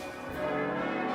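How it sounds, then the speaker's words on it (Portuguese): Church bells ring in a continuous, sustained wash of overlapping metallic tones, steady and fairly full, with no voices over them. "O dia amanheceu com a agitação furiosa dos sinos."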